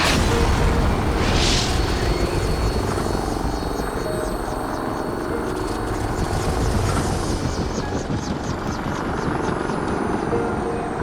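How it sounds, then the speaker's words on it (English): A heavy, roaring explosion from an incoming missile, set against a helicopter's loud, steady rotor thrum in a combat game scene, rumbling continuously without any voices. "Missile inbound!"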